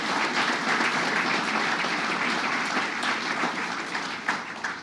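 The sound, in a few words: audience applause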